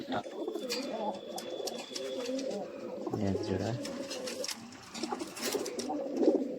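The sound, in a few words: red pigeons cooing in a loft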